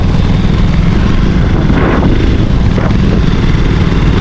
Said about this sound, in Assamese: বাইকৰ লগত সমানে স্কুটি চোতাইছে।